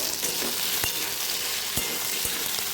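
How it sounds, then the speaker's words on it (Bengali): Potatoes are turned over in sizzling oil on low heat. A steady frying hiss runs throughout, broken by a few sharp clicks from the spatula. "গ্যাসটা কম করে আমি আলুগুলো একবার উল্টে নেব"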